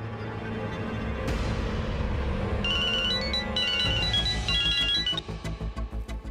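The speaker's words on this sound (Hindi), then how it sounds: "मैं सरनास को फोन करके बता देती हूँ।" An electronic phone ringtone chirps in repeated melodic bursts over background noise, then pulses rhythmically toward the end, no talking.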